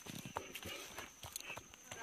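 A horse steps along a mountain trail with faint, irregular hoof clip-clops over soft background noise, at a moderate distance.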